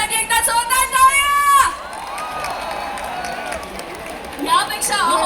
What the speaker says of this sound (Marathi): तुमच्यासाठी एकदा जोरदार टाळ्या